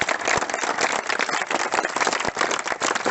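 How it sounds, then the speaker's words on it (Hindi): A small group claps for boys who passed their army selection, a brisk, close run of uneven hand claps that lasts the whole moment. "इसलिए उन लड़कों के लिए जोरदार तालियां जिन्होंने हमारे पास किया।"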